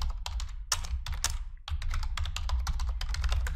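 Rapid typing on a computer keyboard while entering spreadsheet data, dense clicky keystrokes in quick bursts with a brief pause midway, close and clear over a low steady background hum.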